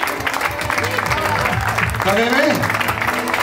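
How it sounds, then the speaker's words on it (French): Audience applause at a hip-hop event in Montréal-Nord, a steady wash of clapping under someone speaking French over music. "un applaudissement pour le documentaire hip-hop."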